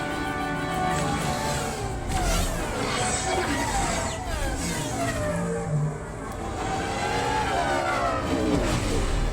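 Roaring pod racer engines in a Star Wars: The Bad Batch race, a loud, continuous whine with rising and falling pitch sweeps, close and sustained, with no talking.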